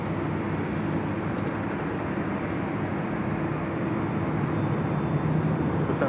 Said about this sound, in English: Korean Air now making that turn on to Kilo, heading to the gates of Tom Bradley